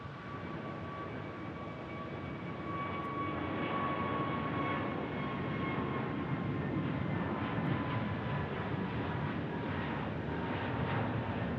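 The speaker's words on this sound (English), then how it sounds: "Looks like an A321neo." Airbus A321neo jet on the departure runway at Phoenix Sky Harbor, a steady broad engine roar with a faint tonal whine that builds slightly and holds loud throughout, no talk.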